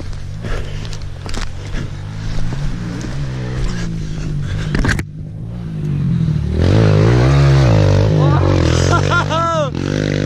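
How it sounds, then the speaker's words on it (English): A Kawasaki KLX 140L dirt bike with an aftermarket exhaust pipe on a private turn track: its engine idles, then revs loudly with rising and falling pitch, close by, as people shout and talk over it. "Dude, that bike rips now with that pipe."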